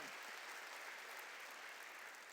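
A church congregation claps together, a steady, fairly distant rush of many hands that stays even and unbroken for a couple of seconds.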